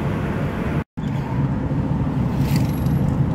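Rumbling road and engine noise from inside a moving car driving through Santa Cruz, Costa Rica, toward Liberia Airport. The drone is loud and constant, with a brief dropout near the start.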